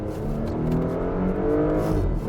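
A Porsche Panamera 4 sedan accelerates hard, its engine rising in a smooth, steady drone heard from inside the cabin, moderately loud and continuous with no talking.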